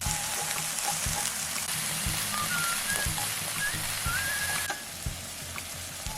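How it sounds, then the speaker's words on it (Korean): Green onion sizzling in cooking oil to make scallion oil, a steady, close frying crackle with faint stirring, fading slightly toward the end. "대파를 넣고 파기름을 내줄 겁니다"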